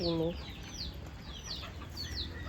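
Chickens cluck in short, repeated calls against a steady farmyard background, fairly close, with a brief voice at the start.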